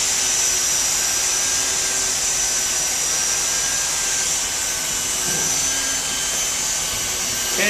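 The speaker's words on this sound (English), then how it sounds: "Right now, I'm just slowly melting the base material and putting the rod in to hold the two pieces together." A hot air plastic welder runs with a steady, loud blower hiss while melting polypropylene base material and feeding in a welding rod, a constant airy rush with no pauses.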